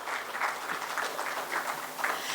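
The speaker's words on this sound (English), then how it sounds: "Ladies and gentlemen, a loud round of applause for Mr." An audience at a logistics summit panel discussion in Gandhidham applauds a panelist, a fairly quiet and distant round of clapping that swells in soft waves and carries on without a break.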